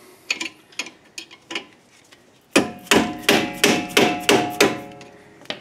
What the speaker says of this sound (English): I use a mallet so that I don't injure my hands